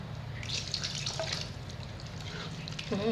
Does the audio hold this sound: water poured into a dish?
yes